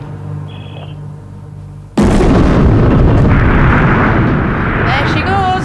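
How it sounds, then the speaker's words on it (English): Demolition blast bringing down Twickenham Stadium: after a quiet hum, a sudden loud broadband explosion erupts and rolls into a sustained roaring rumble of collapsing concrete and rubble, with faint debris rattles near the end. "Twickenham Stadium folds like an accordion, breaking into rubble on impact with the ground"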